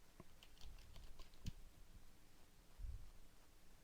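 Keys clattering on a computer keyboard as a company name is entered into a library database search, with quiet irregular taps and a few heavier keystrokes close by.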